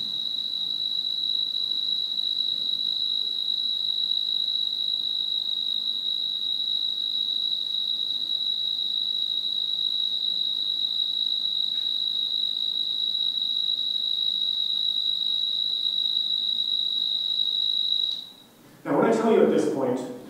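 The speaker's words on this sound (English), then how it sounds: "the prairie tree cricket here is abundant in Kansas" A single steady, high-pitched prairie tree cricket trill, recorded in Kansas grassland, drones on unbroken for about eighteen seconds, then stops as a voice briefly begins.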